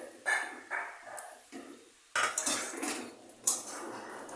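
A spoon scrapes and clatters against a pan while spices and fried potatoes are stirred for a Bengali banana-flower curry, in short bursts of metal-on-metal noise with a dog barking once in the background.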